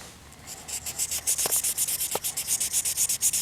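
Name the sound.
sanding a Condor Bushlore knife blade with 400 grit sandpaper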